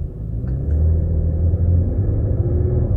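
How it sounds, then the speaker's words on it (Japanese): A Porsche Macan S SUV pulls away from brake hold on an ordinary road, its engine giving a deep, steady, close-up rumble that swells slightly as it gets moving. "そして、ブレーキホールドからの立ち上がり。"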